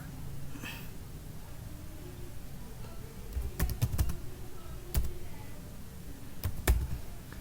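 Keys clatter on a computer keyboard while CSS code is typed: scattered sharp keystrokes come in short bursts over a soft background hum, close and fairly clear, with no talking.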